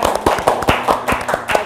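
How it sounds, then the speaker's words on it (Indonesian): Small audience at a provincial health office podcast in Banten giving a short burst of applause, a few sharp, loose claps from a handful of people in a room. "Boleh minta tepuk tangan sekali lagi."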